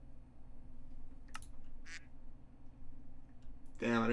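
A person imitates a duck with a short nasal quack, a brief burst after a couple of clicks, followed by someone starting to talk.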